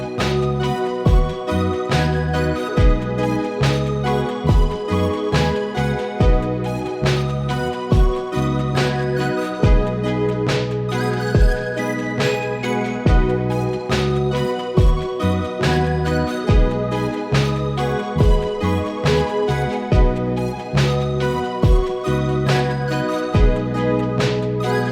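A synth lead of smooth, gliding connected notes rides on top of a steady programmed beat with regular kick and snare hits, produced in Ableton Live; the music plays alone at a full, consistent level throughout.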